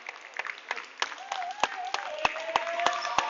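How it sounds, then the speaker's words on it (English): A crowd applauding in a gym after a boys' high school basketball game, with sharp claps ringing out and a voice talking over them. "Let's give both these teams a big round of applause."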